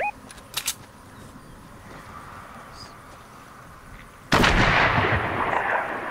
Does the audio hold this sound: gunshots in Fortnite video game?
yes